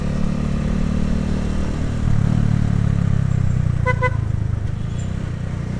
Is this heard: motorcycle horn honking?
yes